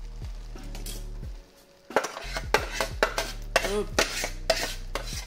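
Cooked pasta tipped back into a wok and stirred, giving a run of close metallic scrapes and clinks of utensil on pan with a soft sizzle beneath, after a brief quiet gap; one short spoken word at the start.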